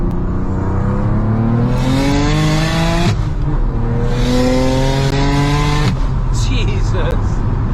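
A manual BMW 335i with a single-turbo N54 engine making about 660 bhp, heard from inside the car as the engine revs hard and climbs through two gear changes, each pull rising in pitch before a sharp shift.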